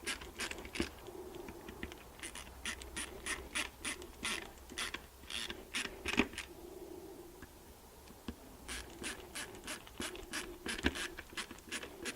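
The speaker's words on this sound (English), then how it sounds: "Now we put this 1, 2, 3 screws back in." Ratchet driving three screws back into the alternator voltage regulator cover on a Mercedes ML320, bursts of rapid clicking separated by short pauses, close and moderately quiet.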